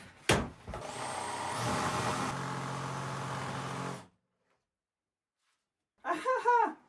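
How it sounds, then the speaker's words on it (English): A jigsaw cutting through poor-quality wood that is burning the blades, a loud continuous buzzing rasp for about four seconds that then stops, followed by a brief burst of a person speaking. "Let's try the jigsaw."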